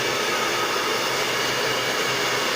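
A hair dryer blows hot air onto the screen of a Samsung Galaxy J8 (SM-J810F) to loosen it for replacement, a steady, loud, even whoosh throughout with no talking.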